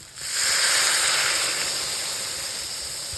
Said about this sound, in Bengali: এরপর জল ঢেলে দেবো।